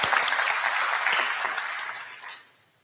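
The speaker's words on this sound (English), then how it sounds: "You can clap for that." An audience at a cooperative's annual meeting applauds, a dense burst of clapping that holds steady for about two seconds and then fades away.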